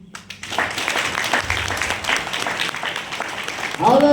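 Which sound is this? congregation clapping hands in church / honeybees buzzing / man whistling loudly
congregation clapping hands in church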